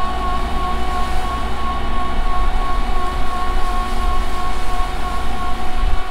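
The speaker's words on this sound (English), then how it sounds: "So here's Nathan's chopper truck." A forage chopper truck runs steadily during harvest while a bunker silo is filled, giving a loud, continuous engine and mechanical drone with a sustained tonal whine and no pauses.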